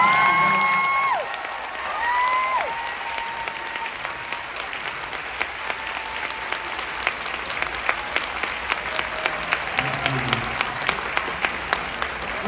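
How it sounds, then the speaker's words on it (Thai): A theatre audience at the final performance of a musical applauds the actors, a dense, sustained wash of clapping with some cheering. It begins under fading music and voices and grows into steady rhythmic clapping. "ผมขอเสียงปรบมือให้กับนักแสดง"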